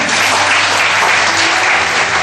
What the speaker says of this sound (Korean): 저 뒤에 서 계신 분도 한번 박수 하시겠습니다.